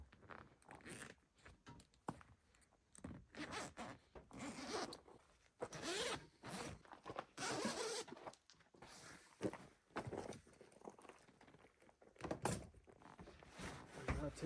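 A canvas tent's zipper on an overland camping setup with a Ford Ranger is worked in repeated short rasping pulls, close and loud, with pauses and fumbling handling between strokes.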